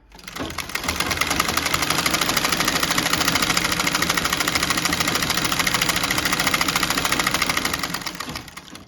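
A Singer Model 15-30 sewing machine stitches a buttonhole on its zigzag setting with a rapid, even mechanical chatter that runs steadily for several seconds, starting and stopping cleanly, loud and close.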